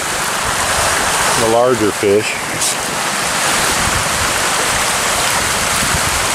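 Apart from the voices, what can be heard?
milkfish splashing while feeding, like a waterfall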